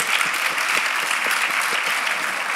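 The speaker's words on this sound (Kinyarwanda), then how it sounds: "gukoma amashyi" An audience at a youth talk show gives steady, even applause, a dense wash of many hands clapping nearby throughout, with no voices over it.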